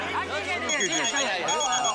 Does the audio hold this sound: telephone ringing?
yes